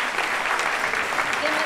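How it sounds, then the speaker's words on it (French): An audience at a political meeting in Rennes applauds in a dense, continuous burst of clapping, brief and evenly loud throughout. "Sous vos applaudissements."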